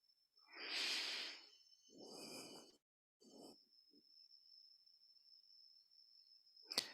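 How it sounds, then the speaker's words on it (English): Slow audible breathing during a guided mindfulness exercise: a long breath in, then a breath out, then a shorter breath, close and soft over a faint steady tone, ending with a sharp click. "Breathing in and out."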